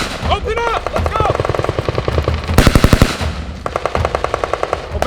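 Soldiers fire guns during Army infantry training, bursts of rapid automatic gunfire crack close and loud in steady rhythmic volleys, with shouted commands over the shooting.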